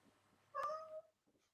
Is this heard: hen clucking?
no